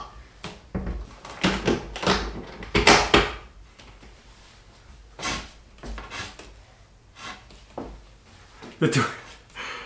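Bathroom door in a salvaged mobile home being hung and swung, catching and scraping on the floor in several rough bursts, with people talking quietly between the knocks and drags.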